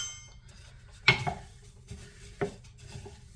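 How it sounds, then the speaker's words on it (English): Oat muesli mix stirred with a spoon in a bowl, giving a few scattered clinks and scrapes against the dish, one sharper knock near the middle and another shortly after, all fairly quiet and close. "Okay, so there's my oat mix, and I'm gonna just mix this up."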